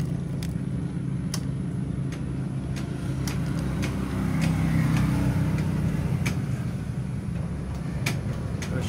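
Honda Mio i 125 scooter engine idling with a steady low rumble and an uneven, stumbling misfire, heard close with faint sharp ticks over the drone.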